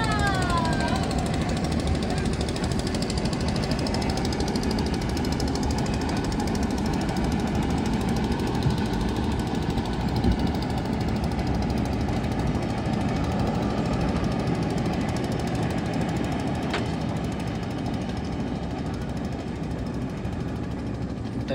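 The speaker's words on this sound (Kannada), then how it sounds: "ಬೋಟ್ ಹೊರಡ್ತಾ ಇದೆ, ಬೋಟ್ ಹೊರಡ್ತಾ ಇದೆ." A passenger boat's engine chugs steadily and loudly as the boat sets off on the Sharavathi backwater near Honnavar, a continuous close drone with faint voices in the background.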